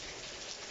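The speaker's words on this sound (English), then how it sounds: "Oh well, it's raining." Rain pours down outside a house in Greece, a thick unbroken hiss of drops with a steady level and no speech.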